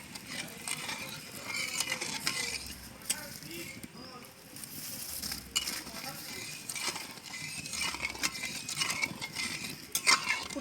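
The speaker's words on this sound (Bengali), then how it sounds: "চিনি দিয়ে ভালো করে নাড়ব। চিনিটা গলে যাওয়া পর্যন্ত নাড়তে থাকবো।" A spoon scrapes and stirs around a pot as sugar goes into homemade tomato sauce, soft irregular clinks and swishes close by, with faint background noise.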